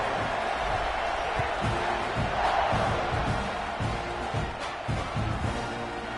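A dense stadium crowd at a night college football game in a video game, Missouri at Texas A&M, roars steadily throughout, a loud continuous wash of cheering with faint rhythmic thumps underneath.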